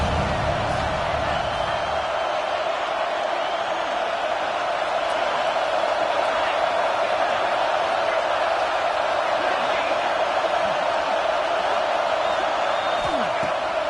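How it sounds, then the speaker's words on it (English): A packed Ohio State Buckeyes football stadium crowd roars on third down, a dense, loud, steady wash of cheering that holds without break throughout. "The Buckeye crowd alive on third down."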